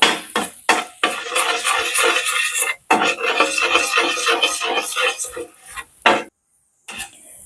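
Salt being stirred into chili paste for prawn pittu, a spoon scraping and clattering against the pot in busy bursts with short pauses, then quiet near the end.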